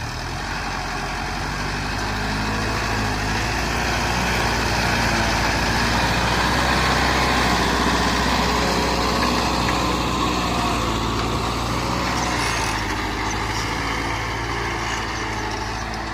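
A Kubota MU5502 tractor fitted with a cultivator runs on a farm, its diesel engine droning steadily and loudly up close for the whole stretch with no talking.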